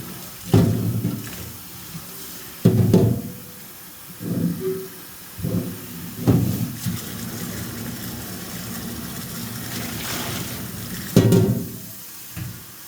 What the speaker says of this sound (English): so now you have to rinse all of this out